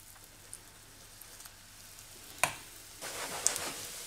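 Hemp seed patties are spooned into hot oil in a frying pan and start to sizzle. A faint crackle builds into louder, spitting bursts as each portion lands, with a brighter hiss toward the end.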